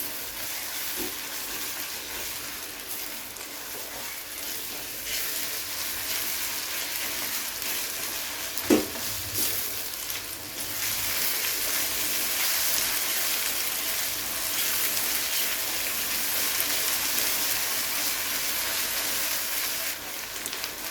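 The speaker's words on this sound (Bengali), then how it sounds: "রসুনটাকে পেঁয়াজের সাথে খুব ভালো করে ভেজে নিতে হবে" Garlic paste frying with onions in a pan for prawn curry gives a steady broadband sizzle that runs the whole time, with one brief clink or stir partway through and no voices.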